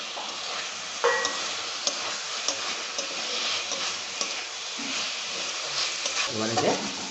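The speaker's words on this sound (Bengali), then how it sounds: "পটলগুলো দিয়ে দেব।" Pointed gourds (potol) frying in a pan, a soft continuous sizzle with scattered clinks and stirring scrapes from a utensil, fairly quiet and close.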